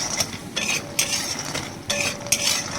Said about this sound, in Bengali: বড়ি ভেজে একটু লাল লাল করে বড়িগুলো ভেজে নিতে হবে।